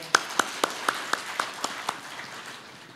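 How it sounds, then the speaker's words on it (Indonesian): Scattered hand claps from a small audience at a YAKKUM Easter service honoring Panti Waluyo hospital: about eight sharp, evenly spaced claps, fairly faint, then quiet. "Tepuk tangan dong untuk Panti Waluyo"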